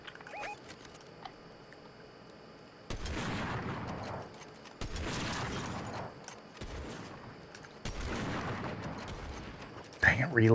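Gunfire in a video game, bursts of dense rapid shots arriving in three or four sustained volleys separated by short gaps, with a sharper burst at the end and a voice talking briefly.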